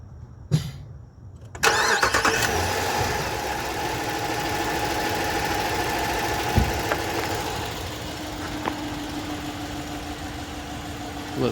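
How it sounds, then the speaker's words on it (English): A 2021 Jeep Grand Cherokee in deep cherry cranks and fires up, the engine catching with a sharp burst, then settling into a steady, close idle with a faint tick-like texture and no talking. "make sure we get a startup on these guys so you can hear if there's any kind of tick"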